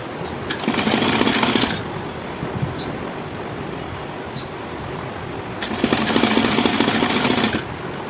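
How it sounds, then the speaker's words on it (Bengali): A sewing machine running close by as it stitches a blouse neckline, two loud sustained bursts of rapid mechanical whirring separated by a quieter pause with faint ticks. "এটা আমি ঘুরিয়ে চাপ সেলাই দিয়ে দিচ্ছি।"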